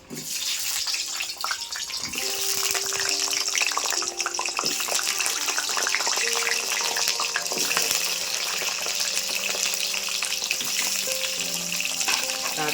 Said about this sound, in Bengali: তেল আমার গরম হয়ে গেছে এবার আমি আস্তে আস্তে পটলগুলো সব ছেড়ে দেবো